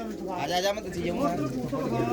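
A female pigeon held in a man's hands coos softly amid a group of bred pigeons, low rolling calls layered under continuous nearby talking.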